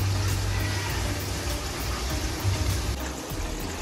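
Water pours into a pan of chicken being cooked for KFC-style popcorn chicken at home, a steady close gushing splash with a low hum underneath and no talk.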